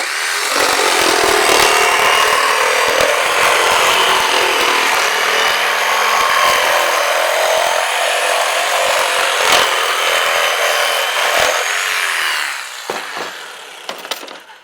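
A scroll saw fitted with a spider blade cuts through half-inch plywood in a loud, steady rasping buzz that runs for about twelve seconds, then stops, leaving a few faint clicks and knocks.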